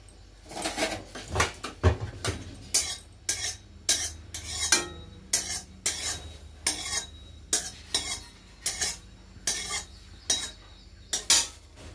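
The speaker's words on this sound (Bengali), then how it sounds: "এটা ভেজে নেই, ডালটা, মুগ ডালটা ভেজে নেই।" Moong dal being dry-roasted in a pan for a vegetarian dal, heard as a steady run of sharp scraping and clinking strokes from a spatula against the pan, repeated roughly once a second and close up.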